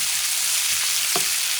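Shrimp frying in oil in a pan for a gourmet shrimp sandwich, giving off a steady close sizzle with a brief soft stirring scrape near the end and no talking.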